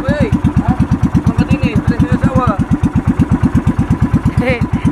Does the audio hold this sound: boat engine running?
yes